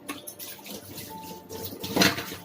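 Water running into a kitchen sink basin while it is being washed out, uneven splashing and gushing with a louder surge near the end.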